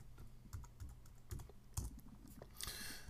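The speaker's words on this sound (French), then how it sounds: "Si je vais d'ailleurs dans Google et que je tape Teameasy" Keys clatter on a computer keyboard as a web search is typed, a quick uneven run of close, crisp clicks with a brief louder burst near the end.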